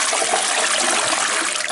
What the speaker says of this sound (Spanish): Voy a tirar otra vez de la cisterna